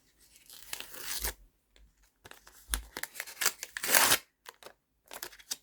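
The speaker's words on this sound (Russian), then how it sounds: "Распаковывается у нас пакетики очень-очень классно." Paper surprise packets are torn open in a quiet room, with several sharp rips and crinkles coming in separate bursts between short pauses, close and clear.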